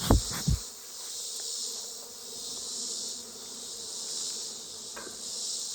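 Honey bees buzzing at an open hive being prepared for winter, a dense continuous hum close by, with a couple of sharp knocks at the start and a faint click later.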